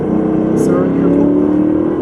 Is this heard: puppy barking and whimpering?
no